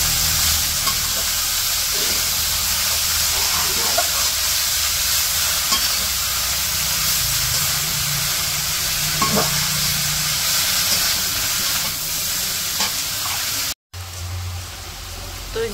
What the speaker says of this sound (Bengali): মাছগুলো মিশিয়েও আর একটু ভাজবো